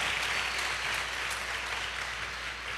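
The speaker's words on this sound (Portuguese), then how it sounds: "Dê uma forte salva de palmas para Jesus aí" Church congregation applauding for Jesus, a dense, even patter of many hands clapping at a moderate, steady level with no voices over it.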